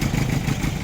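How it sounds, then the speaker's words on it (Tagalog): Toyota 2C diesel engine running rough, misfiring and starting hard, a steady loud low rumble with a slightly uneven pulsing beat heard up close, with no talking. "namamalya po yung engine at hard starting"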